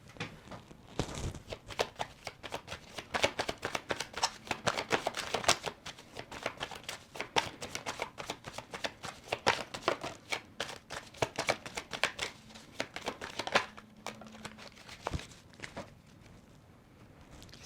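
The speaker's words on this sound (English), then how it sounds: "I am going to pull some tarot cards and some oracle cards" Tarot and oracle cards being shuffled and pulled: steady close riffling and slapping of the deck for most of the stretch, with a few softer card clicks toward the end and no talk.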